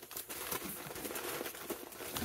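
Packaging being unwrapped from a parcel, close crinkling and rustling of wrapping material in irregular bursts, fairly quiet and without speech.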